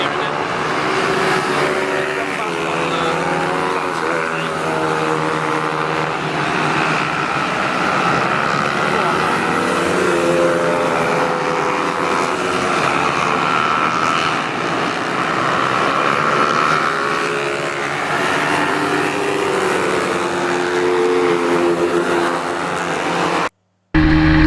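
Racing motorcycles lapping a busy circuit during a practice day at Teesside, a continuous loud engine roar with rising and falling pitch as bikes pass, a voice talking over it.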